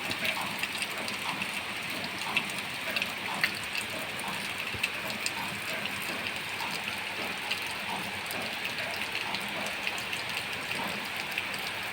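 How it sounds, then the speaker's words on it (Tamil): Heavy rain falling steadily since midday, heard as a dense patter of drops with small sharp ticks on hard surfaces, moderately close and unbroken, with no talking. "செமையாக பெய்யுது"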